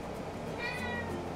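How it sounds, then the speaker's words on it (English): A big house cat meowing indoors, one drawn-out plaintive meow in the middle of a quiet room, close and moderately loud, with no talking. "You just a big fat cat."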